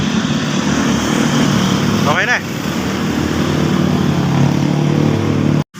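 A Yamaha Mio i 125 scooter engine idles steadily and close by after valve and valve-seal replacement, a continuous mechanical drone with a brief shift in pitch partway through and a short voice over it.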